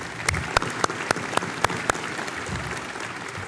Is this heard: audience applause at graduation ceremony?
yes